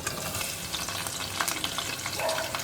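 Sliced onions frying in hot oil flavoured with ginger and garlic, giving a steady close crackling sizzle with a few brighter pops and scrapes throughout.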